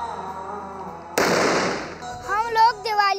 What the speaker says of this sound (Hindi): हम लोग दिवाली में तरह तरह के पटाखे जलाते हैं